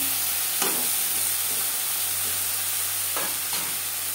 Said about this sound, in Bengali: ভাজা পেঁয়াজ ও লঙ্কার সাথে বেগুন বেশ ভালো করে মিক্স করে দেব।